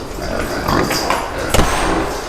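Pigs in a pen on a pig farm grunt and snuffle close by amid a noisy barn background, with one sharper squeal-like burst near the end.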